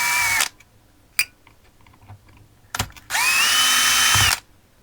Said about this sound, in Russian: Откручиваем два винта М5 на 16.